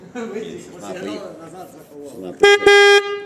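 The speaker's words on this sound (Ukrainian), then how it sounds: "Так а що, ну як, треба посигналити, відкрив, посигналив." A car horn honks twice in loud, sustained blasts near the end, the second longer, following a stretch of talking with the car's windows open.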